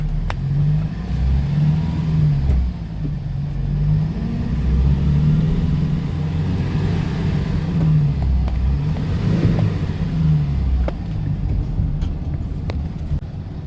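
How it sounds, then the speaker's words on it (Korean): A car pulls away from a standstill during a VGT actuator test. The engine hum holds steady with some wavering rumble, loud and close, and no one speaks. "가속 한번 해볼게요. 저 정차해 있는데 출발해 볼게요."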